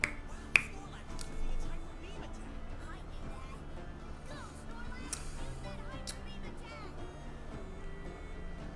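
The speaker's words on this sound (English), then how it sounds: "I snap my fingers weird." A person snaps their fingers with an unusual three-finger technique, giving one sharp, close click early on, set against a steady background of game music and ambient sound.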